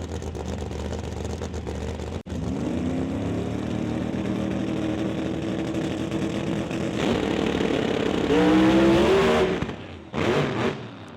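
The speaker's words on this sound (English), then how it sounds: "Both cars straight up into tire shake, and both drivers electing to click it off" Supercharged Ford Mustang drag cars, including a Mach 1, roar loudly off the line together, the engines droning high and rough with a violent shuddering tire shake before the throttle is abruptly cut.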